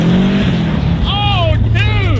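A Subaru on studded tires runs fast across a frozen lake, its engine a loud sustained roar with rising and falling whine as it revs hard, close and steady throughout.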